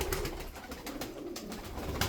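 Tumbler pigeons kept in a loft coo softly, several low rounded calls repeating at a moderate distance without any speech over them.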